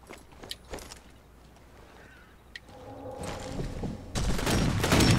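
Gunfire in the video game Sniper Elite 4 comes as scattered faint sharp shots early on, then grows into louder, denser bursts of firing toward the end.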